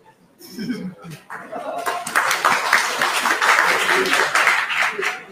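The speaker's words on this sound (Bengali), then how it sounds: "আমার বক্তব্য ভালো না লাগলেও দয়া করে সবাই করতালি দিবেন" A seated audience at a formal Bangladeshi speech event bursts into applause, the clapping swelling from a few hands into a dense, sustained ovation mixed with murmurs and light laughter.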